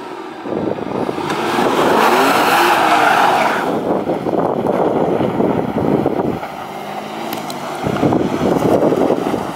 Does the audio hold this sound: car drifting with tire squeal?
yes